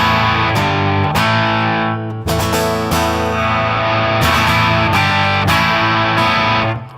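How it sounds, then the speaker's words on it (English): A PRS SE Hollowbody II Piezo guitar plays loud distorted strummed chords, with a few sharp attacks and sustained ringing tones, up close with no talking. "I can dial in some distorted electric underneath of that."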